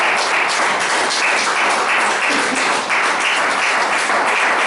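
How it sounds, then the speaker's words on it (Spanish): Congregation at a Spanish-language church service applauding, a dense, steady wash of many hands clapping that stays loud and continuous throughout, with no clear speech over it. "Dale un aplauso, Señor."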